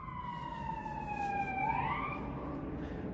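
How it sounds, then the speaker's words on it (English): An ambulance siren passes outside, a steady wailing tone that shifts pitch partway through as it goes by, moderately distant, under no talk. "Very rare you hear any type of ambulance or any type of activity going through"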